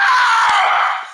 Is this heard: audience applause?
no